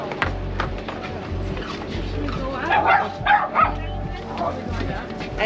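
A dog barks a few times at a distance on a lakeside lighthouse pier in Duluth, Minnesota, the short yips sounding under steady wind and ambient outdoor noise.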